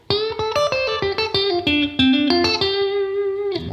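Fast electric guitar lick from an outro solo, a rapid run of sharply picked single notes with a few held pitches, played alone with slight reverb.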